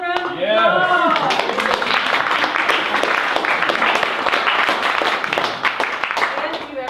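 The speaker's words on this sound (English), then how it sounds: "You should give yourself a round of applause." An audience applauds loudly at a talk, dense clapping sustained across the whole stretch, with a voice speaking over the start and brief cheers mixed in.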